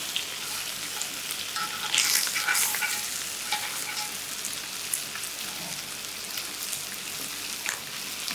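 Bacon sears over high heat in a skillet, a steady close sizzle and crackle with brief louder spatters, no one talking.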